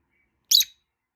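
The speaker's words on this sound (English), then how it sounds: "Oh, what was that chirp?" Pet lovebird, a small parrot, giving one short bright chirp close by, alone in an otherwise quiet room.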